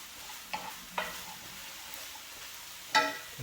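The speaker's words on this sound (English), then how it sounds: "give it a good stir around for a couple of minutes. Cook the tofu," Tofu scramble sizzling softly in a frying pan while being stirred around, with a faint steady fry broken by a few sharp utensil clicks against the pan, one louder near the end.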